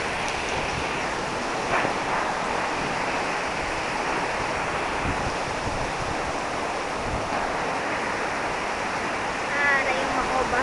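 Rushing river floodwater during Typhoon Pedring, a steady broadband roar that stays loud and unbroken throughout, with a few faint voices briefly heard underneath it.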